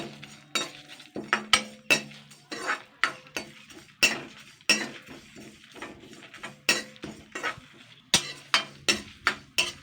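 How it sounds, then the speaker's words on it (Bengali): Repeated metal scraping and clinking as spices for dried chalta (elephant apple) pickle are stirred in a dry frying pan, rhythmic strokes roughly twice a second, close and clear. "এবার আমি এটাকে জাস্ট দুই তিন মিনিট হালকা নাড়াচড়া করে নেব"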